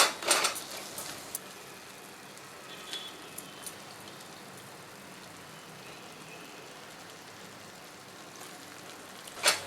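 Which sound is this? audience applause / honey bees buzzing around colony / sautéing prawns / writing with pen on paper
sautéing prawns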